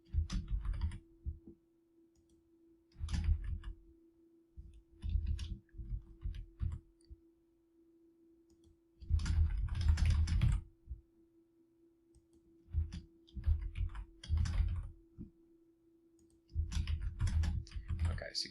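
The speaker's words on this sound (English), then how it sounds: "So you would type in your response." Typing on a computer keyboard while entering a written response for an online course, heard as intermittent bursts of quick key clicks separated by short pauses, fairly close and moderately quiet.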